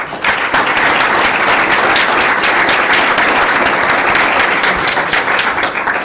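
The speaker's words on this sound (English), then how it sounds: "let's give these ladies a round of applause" Sustained applause from an audience honoring a women's softball team at a school board meeting, dense steady clapping held at an even level throughout with no talk.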